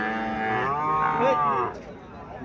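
A Sahiwal cow moos once at a cattle fair in Comilla, a long low drawn-out call that is close and loud, then fades into quiet farmyard background.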